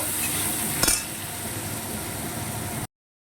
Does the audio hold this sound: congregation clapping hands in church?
no